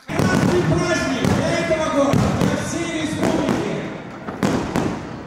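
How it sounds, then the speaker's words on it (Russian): Fireworks boom and crackle in a rapid series of loud bursts closing an event in Dagestan, with overlapping thumps echoing and crowd noise faintly beneath. "Мероприятие завершилось шоу фонтана и красочным салютом."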